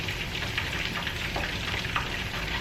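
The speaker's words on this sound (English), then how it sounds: "And I'm going to just let that saute." Garlic sautés steadily in a hot pan as wing sauce is made, a soft, even sizzle with no talking.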